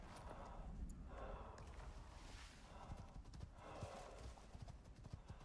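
Horses gallop in Pathfinder: Wrath of the Righteous, a steady clip-clop of hooves running through the whole stretch amid low game ambience.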